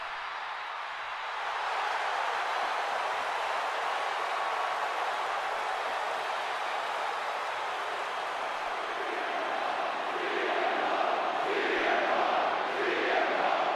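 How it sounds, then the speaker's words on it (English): An arena crowd in the wrestling video game WWE 2K25 roars for CM Punk's entrance, a dense, steady wall of cheering that swells slightly near the end, with no talk over it. "You hear the crowd going crazy for CM Punk here tonight."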